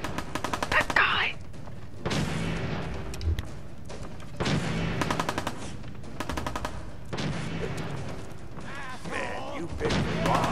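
Distant and mid-range gunfire bursts in the video game Fallout 4, repeated volleys separated by quieter gaps, with faint voices and mechanical clatter mixed in.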